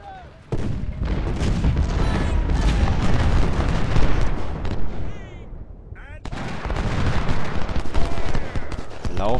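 Cannon and rifle fire in the Civil War strategy game Ultimate General, a dense, continuous barrage of booms and crackling volleys with a brief lull midway, close and loud, with a voice talking over it.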